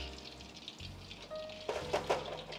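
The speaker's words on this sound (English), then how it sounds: "So, let's finish frying this." Oil sizzles steadily as Cajun chicken fingers fry, with soft crackles and a few louder pops, close up, with faint clinks near the end.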